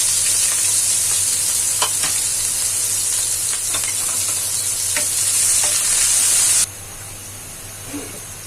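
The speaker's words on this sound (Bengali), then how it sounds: "তেল গরম হয়ে গেল, এখানে একটা বড় মতো কুচি করে দিয়ে দিলাম, দুইটা পেঁয়াজ কুচি করে দিয়ে দিলাম।" Two chopped onions frying in a wok of hot oil, a loud steady sizzle with stirring scrapes throughout that drops to a quieter hiss near the end.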